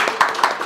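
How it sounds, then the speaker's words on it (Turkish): Three crisp hand claps ring out in an even, quick rhythm, close and fairly loud, with short gaps between them. "Alkış!"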